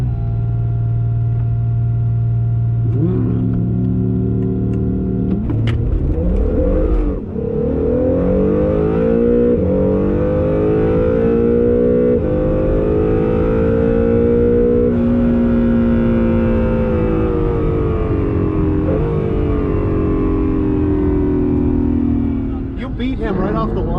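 An Acura NSX launches and pulls hard in a drag race against a Huracan and GT3RS, its engine note climbing steadily for many seconds, loud and close, with people talking over it inside the car.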